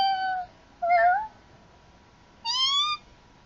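A person imitates a cat, giving three separate meows with clear pauses between them, close and fairly loud with no other sounds around.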